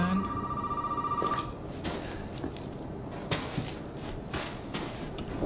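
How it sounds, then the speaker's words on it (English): Telephone ringing in the horror video game Resident Evil 7, a shrill electronic trill that rings for just over a second before giving way to footsteps and soft game ambience. "Phone's ringing."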